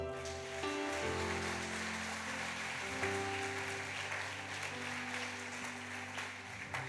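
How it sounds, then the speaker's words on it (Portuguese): Church congregation applauding at a service, a steady broadband wash of clapping with sustained tonal music or organ underneath, continuous and moderately loud throughout. "Dá uma salva de palmas para Jesus."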